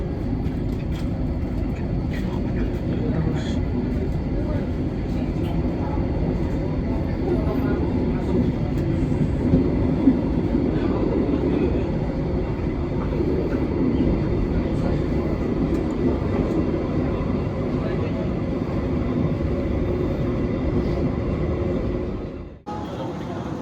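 A commuter train departing Tanggulangin station, heard from inside the carriage as a long, steady, loud rolling rumble and hum with faint voices, ending in a brief abrupt drop and cut.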